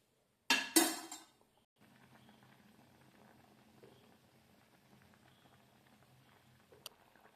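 Tomato curry boils in a pot: a brief clatter of the pot at the start, then a soft, steady bubbling simmer that continues faintly throughout.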